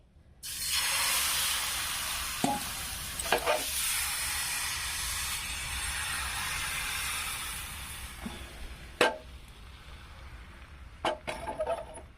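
Patishapta batter cooks in an oiled frying pan with a steady sizzling hiss, broken by several sharp scrapes and clicks of a spatula stirring and lifting, up close.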